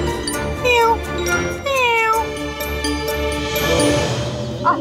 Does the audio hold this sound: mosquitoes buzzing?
no